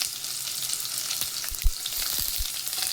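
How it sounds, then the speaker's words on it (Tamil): Garlic and onion sauté in oil with a close, crackling sizzle, broken by a few low thumps and scrapes of a spoon stirring the pan; no voices. "இதோட கொஞ்சமாக வெங்காயம் சேர்த்துக்கலாம்."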